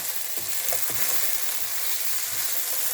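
Potatoes, onion, pepper and salt stir-fried together in a frying pan: a dense, loud, continuous sizzle with soft scraping stirs, no talking.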